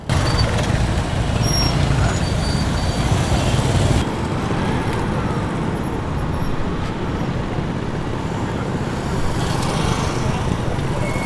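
Busy street traffic in Cotonou with motorbikes and cars passing, a loud continuous roadway roar with engine rumble and a brief hiss like an air brake, with a voice talking over it.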